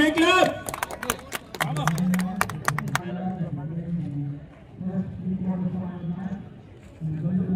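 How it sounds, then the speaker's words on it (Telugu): Audience at a temple donation ceremony gives a burst of loud, fast clapping at the start, which cuts off after about three seconds, leaving a voice speaking over low room noise. "గట్టిగా ఒకసారి గట్టిగా చప్పట్లు కొట్టాం"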